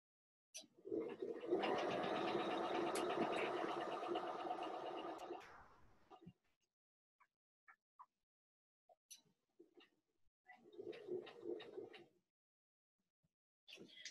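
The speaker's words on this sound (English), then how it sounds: "all I'm going to do is just lower the foot down and start sewing" A sewing machine stitches a fabric book cover, one steady run of needle whirring for about five seconds, then a few short clicks and a second brief burst of stitching, close and clear in a quiet room.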